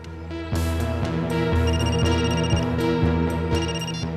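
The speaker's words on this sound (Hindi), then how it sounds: "अभी अभी फोन आया" A phone ringtone plays a repeating electronic melody, loud and close, pulsing in a steady rhythm roughly every half second with no talking.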